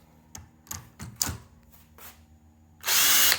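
A power drill whirs in several short bursts, then runs in one loud, sustained high-pitched spin at the end.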